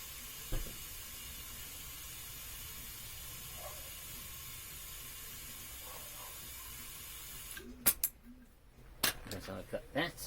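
A small air compressor or foot pump inflates a car tyre with a steady hiss of air under a few soft voice sounds, then the hiss cuts out into clicks and handling noises.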